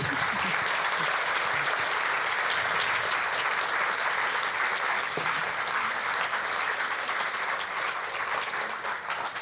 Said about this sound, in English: Warm applause to that.